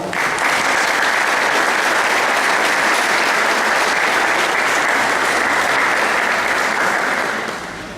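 A large audience at a legal conference on criminal procedure applauds loudly and steadily for several seconds, the clapping holding even before fading slightly at the end.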